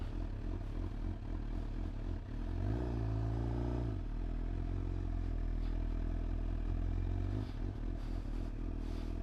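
A 2025 Suzuki GSX-R 750 motorcycle riding on country roads, its engine droning loud and close with a brief rising rev, plus wind and clattering road noise throughout.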